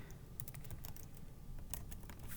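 Typing on a computer keyboard, a quick irregular run of soft close key clicks over a quiet room hiss, no talk.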